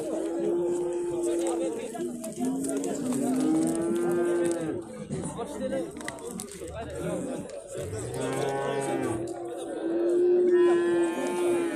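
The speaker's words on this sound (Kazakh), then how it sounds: "Торпақ еркек екен." A young bull moos repeatedly at a busy livestock market in Alay, Kyrgyzstan, its drawn-out, tonal calls loud and close against a steady murmur of crowd chatter and other cattle.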